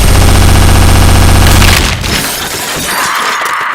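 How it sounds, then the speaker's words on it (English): Automatic fire from an AK-47 platform rifle chambered for .50 BMG rounds in Counter-Strike: a loud, rapid, unbroken burst for under two seconds, then it cuts off into a fading ring. "is an AK-47 platform weapon that can fire 50 BMG rounds at the fire rate of a normal AK"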